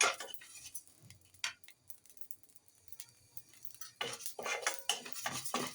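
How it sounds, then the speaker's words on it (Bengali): Rice dry-fried in a pan and stirred for a puffed snack, with sharp scrapes and rattles of a utensil against the metal in bursts and quieter gaps, close and fairly loud. "আর এখন এই যে চালটা ভাজবো।"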